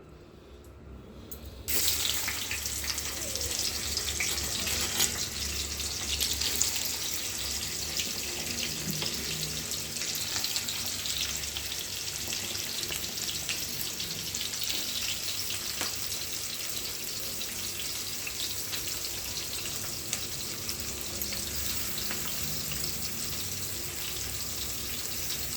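Onions dropped into hot oil in a pan set up a loud, steady hiss and sizzle that begins abruptly after a quiet moment and carries on evenly with no voices.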